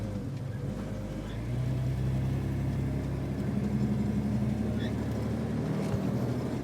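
Off-road vehicle called the banana climbs a small rock face in 2-wheel drive on a trail, its engine a steady mid-pitched labouring drone close by, with people talking over it.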